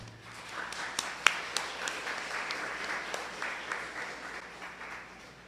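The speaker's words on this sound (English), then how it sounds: "Let's give them a round of applause." An audience applauds at an indigenous language rights policy launch, a steady patter of many hands clapping at moderate loudness for several seconds, with no voices.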